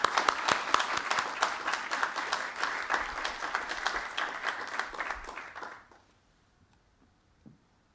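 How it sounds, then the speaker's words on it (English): An audience at a school Year 12 prize-giving day applauds steadily for about six seconds, then the clapping stops abruptly, leaving near silence with one faint thump. "so we'll give her a round of applause."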